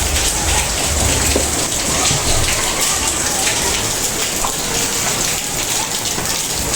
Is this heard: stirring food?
no